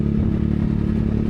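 A Kymco Xciting 400VS scooter cruising on an expressway, its engine a loud, steady low drone with constant rumble and wind buffeting close to the rider, with no speech.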